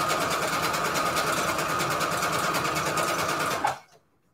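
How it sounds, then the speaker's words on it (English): A sewing machine runs a zigzag stitch on pages for junk journals, a steady close whirring hum that holds for several seconds and then stops abruptly, followed by silence. "let me try a zigzag and see how this sewing machine, see if it's gonna work with me or not"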